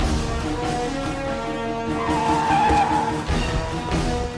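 A car's tires skid and squeal amid busy street traffic in a Telugu comedy film scene, a loud, continuous stretch of engine and tire noise with a brief dip before it swells again.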